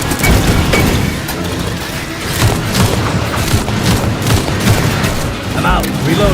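Loud, dense combat in the sci-fi shooter Aliens: Fireteam Elite: a heavy grenade blast amid continuous rapid gunfire and booming impacts, chaotic and close throughout.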